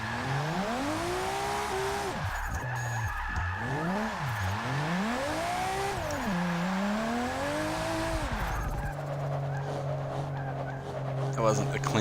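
In Forza Motorsport 6, a racing car's engine rises and falls in pitch as it revs through turns, with long squealing tire skids on the Catalunya circuit, while someone talks over the sound.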